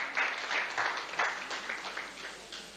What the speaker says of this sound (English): Please resound the round of applause for him.